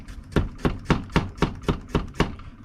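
A chef's knife slices a carrot on a cutting board into ginkgo-leaf pieces, eight crisp evenly spaced chops in a steady rhythm, close and clear with nothing else around them.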